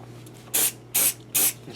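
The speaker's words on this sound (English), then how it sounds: "Spray it with an activator." Glue activator is sprayed onto a budget Les Paul copy guitar in three short, close, crisp hissing bursts with brief pauses between them.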